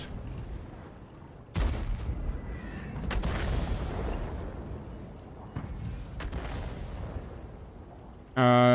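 Tank cannon fire and explosions ring out in the World of Tanks video game, with several loud booming shots and crashes rolling out in between and a rumbling battle backdrop beneath a commentator's voice.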